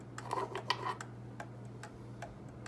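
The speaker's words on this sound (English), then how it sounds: "Clock is setting level right now. As you can hear, it sounds pretty good." An old mechanical clock, just set in beat and running level, ticks steadily and quietly with an even rhythm of sharp clicks over a low background hum, close by with no talking.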